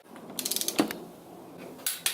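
Torque wrench clicking while tightening bolts on an LS1 longblock engine, giving a rapid run of small ratchet clicks, a sharper snap, then two more clicks after a pause; close and fairly quiet.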